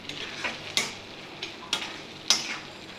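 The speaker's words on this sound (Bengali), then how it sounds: "দিয়ে এবার মশলাগুলোকে ভালোভাবে নেড়ে নেব" Spices with Kashmiri chilli are stirred in a pan over a low, steady sizzle, with four sharp scrape-and-tap strikes of a utensil against the pan spaced about a second apart.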